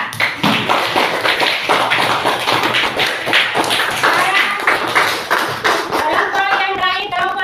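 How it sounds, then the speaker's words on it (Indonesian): A classroom of schoolchildren claps for a student group, a dense, steady patter of many hands, near and loud, that continues for several seconds. "Ya, tepuk tangan untuk kelompok 4."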